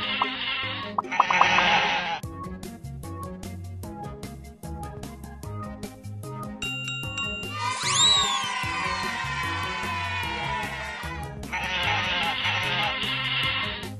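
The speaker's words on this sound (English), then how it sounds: "All the sheep have escaped." Sheep bleat repeatedly in a video game, several drawn-out cries set against a looping musical backing with electronic effects and chimes, moderately loud throughout.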